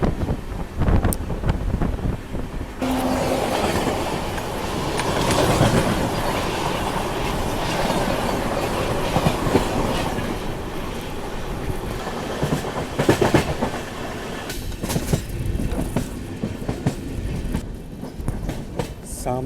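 A passenger train running on rails in rural Maharashtra, loud and steady with rhythmic clickety-clack and rumbling carriages, overlaid by rushing wind noise, ending in sharper clattering bursts.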